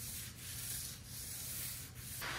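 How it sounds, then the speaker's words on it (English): Steady, gritty rubbing of 400-grit sandpaper over a polyurethane-finished table in a few back-and-forth strokes, close and fairly quiet, with no voices. "I like to use 400 grit sandpaper on a sander like this"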